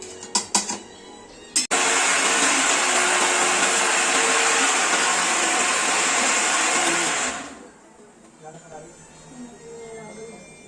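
A mixer grinder whirs loudly and steadily for several seconds, grinding roasted black masala for a spicy Marathi chicken gravy, then cuts off; brief clatter before it starts and quiet voices and kitchen sounds follow.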